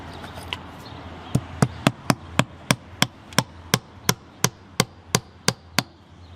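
A finish hammer drives a nail into a window corner during installation, about fifteen sharp, evenly spaced strikes that speed up slightly. Each blow rings clear and close against a quiet background.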